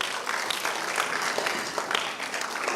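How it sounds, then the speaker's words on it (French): Audience at a ciné-club session in Kinshasa clapping for themselves, a steady patter of many hands, moderately soft and close, lasting briefly without talk over it. "applaudissons pour nous-mêmes alors"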